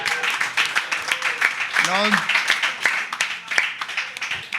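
Applause from an audience of over a hundred people at a SpeakuP Monday panel event in Bali, with dense clapping running steadily throughout and a voice briefly rising above it.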